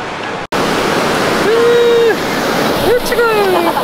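Ocean waves at Santa Monica beach in March make a loud, continuous wash of surf. Brief whistling tones rise above the roar, which is cut off by a short dropout near the start.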